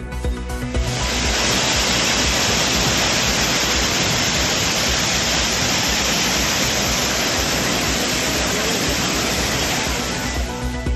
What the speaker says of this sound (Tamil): வெள்ளப்பெருக்கால் குற்றால அருவிகளில் குளிக்க தொடரும் தடை